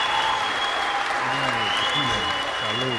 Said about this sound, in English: We'll give you the applause.